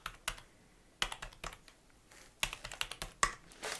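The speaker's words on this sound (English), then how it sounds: "let me just type your number back in" Light typing on a computer keyboard at close range, irregular bursts of soft clicking keystrokes separated by brief pauses, quiet and with no talking.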